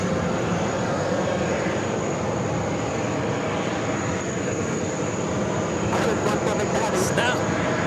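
A Boeing 767-400ER jet at JFK airport gives off a loud, steady broadband engine roar that fills the scene, with a high whine on top and brief clicks near the end.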